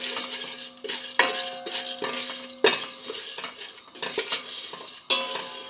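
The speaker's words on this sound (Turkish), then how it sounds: "Kapağını kapatmadan önce güzelce karıştırıyoruz." Popcorn kernels are stirred in a pot on medium heat with a metal utensil, giving repeated scraping, clinking strokes against the pot in an uneven rhythm, close and fairly loud.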